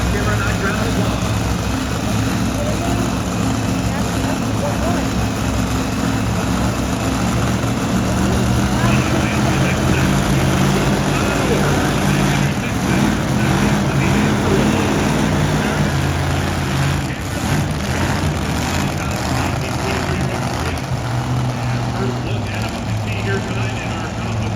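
Full-body two-wheel-drive pulling trucks roar steadily at an annual farm credit tractor pull, a loud, continuous engine drone with broadband crowd and arena noise throughout, with no clear breaks.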